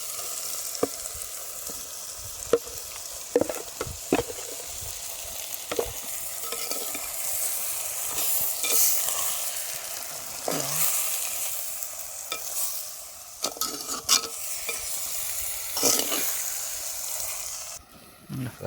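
Marinated mutton heart sizzling and frying in a pan for a country-style mutton heart capsicum curry, with steady hiss and repeated scraping stirs of a spoon throughout, no talk.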